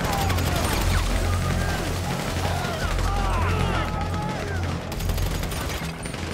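Gunfire in Grand Theft Auto V, a dense, continuous exchange of shots with sustained low rumble and scattered whizzing tones, loud throughout with voices shouting over it.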